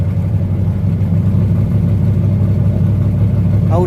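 A truck engine idles steadily after a cold start, a loud, constant low rumble with even firing and no pauses, ending with a brief rise in pitch.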